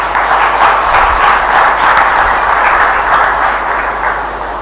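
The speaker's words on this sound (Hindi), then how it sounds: "थोड़ा मीरा के लिए ताली तो होनी चाहिए।" Satsang audience clapping for Meera during a live spiritual gathering, a steady dense wash of applause held at even loudness throughout and easing slightly at the end.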